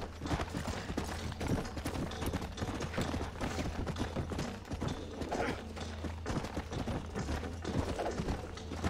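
Horse hooves clip-clop in the Red Dead Redemption 2 video game, a fast, continuous galloping patter with game ambience and occasional distant gunfire-like cracks mixed in.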